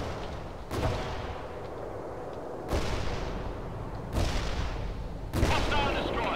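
Shoulder-launched rockets fire and explode in the war strategy game World in Conflict, four heavy booming blasts roughly every one and a half seconds, each leaving a rumbling tail over a constant loud battle roar.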